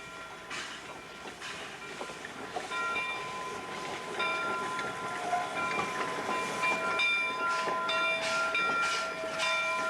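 Narrow gauge locomotive No. 3 works switching duties at McEwen Station on the Sumter Valley Railroad, a loud steady rumble of rolling cars with sustained whistle tones and clanking building through the clip.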